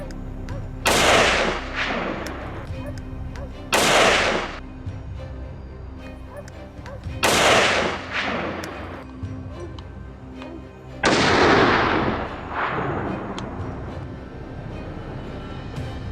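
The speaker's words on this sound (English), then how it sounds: "gunshots rang out in succession, instantly halting its escape" Four loud gunshots ring out one after another at spaced intervals, each with a sharp crack and a long echoing decay.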